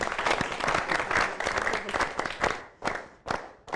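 A studio audience applauds at an Ethiopian television prize show: dense, steady clapping that thins toward the end into a few separate claps and short pauses.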